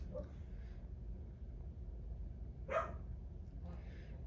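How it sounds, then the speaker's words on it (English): Faint, distant dog barks, a soft yap near the start and a sharper bark later, heard indoors over a low steady hum. "I can't help the dog barking."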